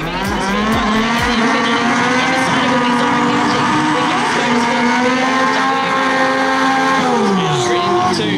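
Factory Xtreme drag race cars roar down the strip in round 1 at the Winter Nationals, a loud, sustained engine howl with rising and falling pitch and a tire squeal near the start, with a commentator talking over it.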